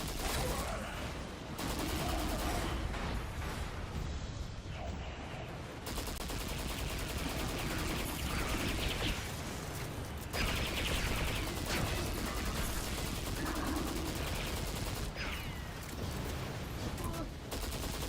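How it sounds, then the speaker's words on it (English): Enemy gunfire in Destiny 2 crackles in long, near-constant bursts of rapid shots, loud and dense across the whole stretch with only brief lulls, mixed into a busy battle soundscape. "Stop shooting shit at me."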